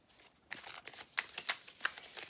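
Tarot cards are shuffled by hand in a short run of crisp, papery riffles and flicks, close up and faint, with no one speaking.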